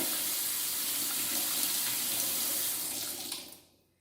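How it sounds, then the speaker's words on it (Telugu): A kitchen tap runs hot water in a steady, close-up stream, then shuts off and the flow trails away. "ఇది ఇలా పైకంటే వేడి నీళ్ళు వస్తాయండి"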